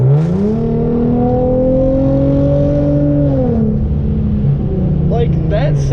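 Hyundai Genesis Coupe 3.8 V6 with an aftermarket exhaust revving up and holding high, a loud, close, rising engine wail that eases back down near the end, with someone talking briefly over it.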